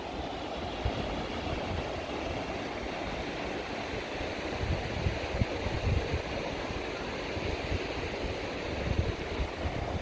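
Sea waves roll near a seaside caravan park, a steady broad rumbling wash with gusty noise, continuous and moderately loud with no voices.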